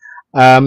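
A single short, sharp sneeze, loud and close, with a brief breathy intake just before it.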